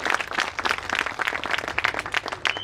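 Audience applause during a talk, a steady burst of many hands clapping, fairly close and continuous for a few seconds, with no voice over it.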